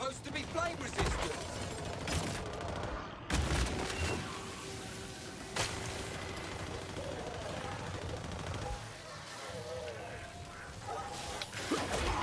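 Gunfire in Killing Floor 3, with scattered sharp shots and bursts punching through a busy game soundscape while a voice talks over the action.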